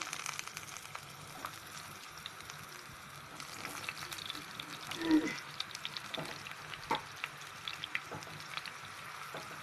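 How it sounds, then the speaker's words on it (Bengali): Gentle, steady sizzling of pointed gourd pieces frying in hot oil, with a few soft clinks and bumps partway through. "তেলটা গরম হয়ে এসেছে এখানে আমি দিয়ে দিচ্ছি আমার কেচে নেওয়া পটলগুলো"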